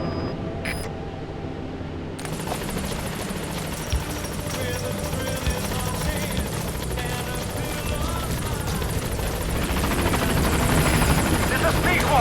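Pequod helicopter arriving at a landing zone in Metal Gear Solid V, a steady rotor thrum that grows slightly louder over time, with a brief beep and radio voice near the start.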